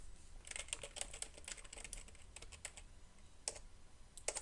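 Fingers type on a computer keyboard in quick bursts of soft, close key clicks with short pauses between them, quiet overall and with no speech.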